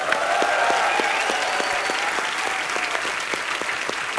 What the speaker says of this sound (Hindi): प्रियंका की मम्मी जी भी यहाँ पे हैं, मधु चोपड़ा जी, इनके लिए जोरदार तालियां हो जाए